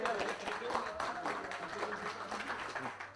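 An audience applauds a third-place team at an overclocking competition, with steady, dense clapping filling the stretch under a murmur of voices.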